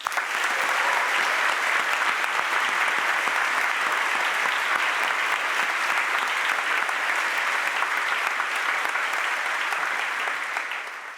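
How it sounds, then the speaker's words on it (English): Guests at a Harvard ROTC commissioning ceremony applaud the new officers, a long, steady wash of dense clapping that holds level for over ten seconds before easing slightly. "Let's give them all a round of applause"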